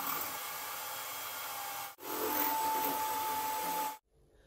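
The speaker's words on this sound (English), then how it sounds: "we're going to beat this until it gets to ribbon stage" An electric whisk beats a caster sugar mixture toward ribbon stage, giving a steady, close whirring drone in two runs split by a brief break, then stopping.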